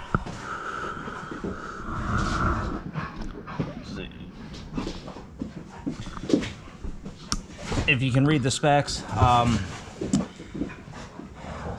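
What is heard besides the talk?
dogs panting and whimpering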